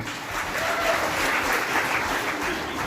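An audience at an award ceremony applauds a student ranked first in Harapanahalli taluk, a dense, even burst of many hands clapping together, loud and sustained throughout.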